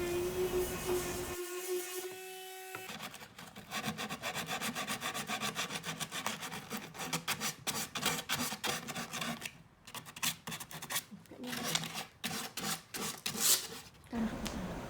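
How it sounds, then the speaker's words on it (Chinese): An oak shelf surface is sanded by hand with sandpaper, making rapid rhythmic rasping strokes that run close and continuous for most of the clip after a brief quiet start, with no speech. "就是通过打磨把这个表面把它磨平就可以了。"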